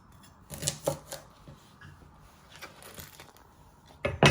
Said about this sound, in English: You first want to chop the ends off and trim the other ends too.